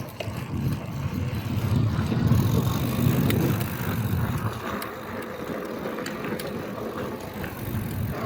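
Hitway BK9 electric fat bike rolling over a rough, potholed stretch of track, a steady close rumble of tyres and rattling frame with bumps and knocks throughout, no voices.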